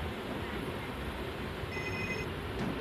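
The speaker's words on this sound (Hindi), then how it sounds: "कहाँ पे बज रहा है फोन?" A phone ringing during a night-time game stream, a faint electronic ring tone heard briefly, buried under steady background noise.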